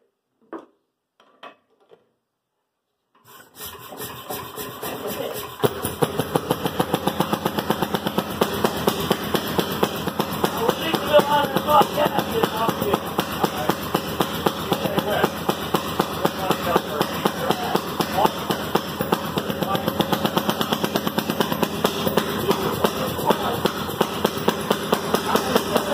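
A Fairmont railway speeder engine starts after a few faint clicks, then settles into a loud, steady, rapid single-cylinder putter that runs on close by.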